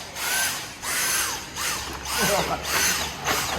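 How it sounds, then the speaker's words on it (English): A Dyson handheld vacuum cleaner whirs in a coffee bar during cleanup after service, its motor surging in several bursts of high-pitched whine, close and fairly loud, with voices talking nearby. "I've got this bad boy, Dyson, handheld Mr. Dyson, genius"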